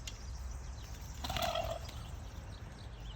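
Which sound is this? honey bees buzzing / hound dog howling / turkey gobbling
turkey gobbling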